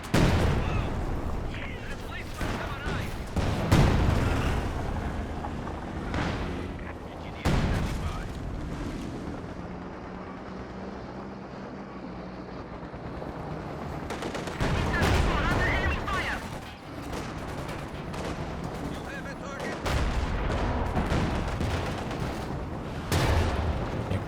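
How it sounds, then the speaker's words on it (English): Artillery barrages and gunfire rumble through a 2v2 Company of Heroes 2 battle, with heavy booms and rattling bursts in dense, uneven waves and a lull in the middle, while a commentator talks over much of it. "So there's this setting up for a barrage on machine gun."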